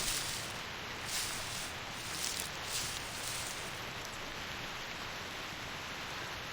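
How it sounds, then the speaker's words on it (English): Heavy rain pours steadily in Reverse: 1999, a dense, even hiss without breaks, fairly soft and alone. "The rain is getting heavier."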